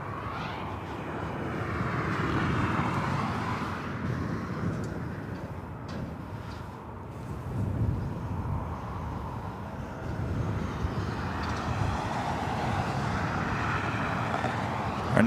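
An airliner roars steadily at LAX, its jet engine noise swelling and easing over a long stretch with no voices.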